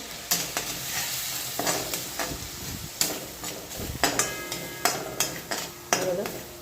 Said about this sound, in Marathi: छान प्रकारे आपण मस्त असे फ्राय करून घेऊया मसाल्याला स्लो मिडियम गॅसवर